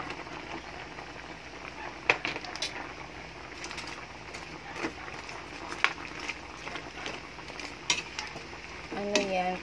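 Shredded cabbage is stirred into a simmering pochero soup with potatoes and broth, giving a soft background simmer with scattered clinks and scrapes of a utensil against the pot.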